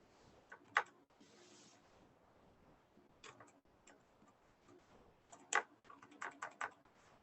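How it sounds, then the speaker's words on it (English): Sparse, light clicks of typing on a computer keyboard, soft keystrokes coming singly and in short bursts with quiet gaps between them, close and faint, with no talking. "as I'm typing"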